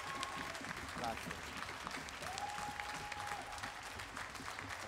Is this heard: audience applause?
yes